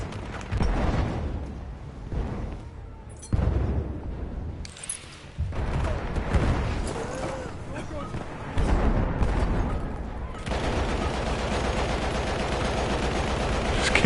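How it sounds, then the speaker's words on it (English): Gunfire in the PS4 video game Battlefield 1: dense bursts of shots and heavy explosions rumble throughout, loud and close, with a player's voice talking over parts of the battle. "Just keep shooting randomly"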